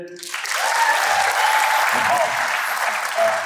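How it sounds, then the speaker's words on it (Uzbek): A crowd at an animation camp event claps in a dense, sustained burst of applause that fills the room for several seconds. "Bitta olqishlar qilib beringlar bitta."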